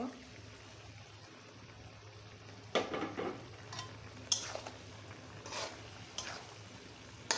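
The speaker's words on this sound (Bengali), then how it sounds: "এখন আমি এই মশলার মধ্যে সে আলু বেগুন আর সজনে ডাঁটাকে ভেজে নেব সুন্দর মতো, আবার কষিয়ে নেব।" Potato, eggplant and drumstick pieces fry in a spice mix, a faint, low sizzle broken by a few sharp clinks and scrapes of a spoon against the pan.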